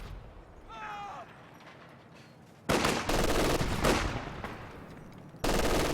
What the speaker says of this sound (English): HMG ready for action